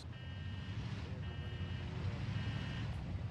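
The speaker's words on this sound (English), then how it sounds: "He's got his little backup signal on." A vehicle's backup beeper in Arma Reforger, three evenly spaced drawn-out electronic tones sounding over a steady engine rumble and wind noise.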